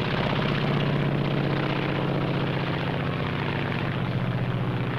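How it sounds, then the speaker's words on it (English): Japanese Zero fighter plane in flight, a loud continuous propeller engine drone with a steady throbbing pulse that fills the whole stretch without any voices. "This is the Japanese Zero."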